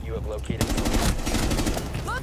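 Rapid bursts of video game gunfire crackle loudly and continuously for about two seconds after a brief lead-in of talk, ending with a short rising electronic tone.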